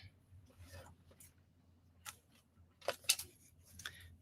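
Several quick, crisp snips of scissors cutting thread, faint and close, with brief pauses between cuts against a quiet background.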